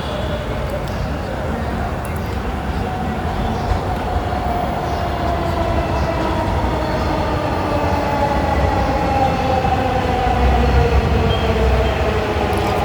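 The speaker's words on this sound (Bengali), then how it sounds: "ট্রেনের জন্য অপেক্ষা করতেছি, মেট্রো রেল আসতেছে" A metro train pulls into Dhaka University station, its steady rumble building under a rising electric whine that climbs across the whole stretch, loud and close, with faint crowd murmur on the platform.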